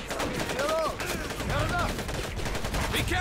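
Gunfire rattles in the World War II shooter Medal of Honor: Pacific Assault, rapid bursts of shots repeating across the moment amid game noise, with a player's voice speaking over it.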